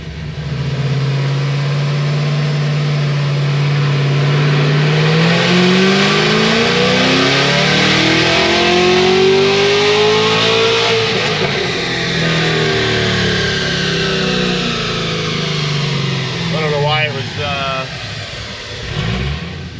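Supercharged Cadillac CTS-V with a Magnuson 2650 blower, tuned to about 1100 hp, revving hard on a dyno pull; a loud, rising engine roar climbs steadily and then drops away near the end.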